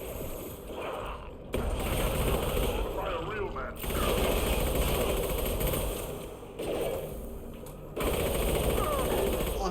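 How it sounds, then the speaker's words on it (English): Rapid automatic gunfire crackles in Mass Effect 2 in long, loud bursts that pause briefly a few times, with a voice talking over the shooting. "I'm firing real bullets at you."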